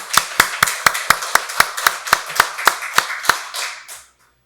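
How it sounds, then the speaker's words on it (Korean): A church congregation's rhythmic clapping at a Sunday worship service, about fourteen sharp, evenly spaced claps in unison, loud and close, ending with a final softer clap and then silence. "박수로 하나님께 영광 돌리겠습니다."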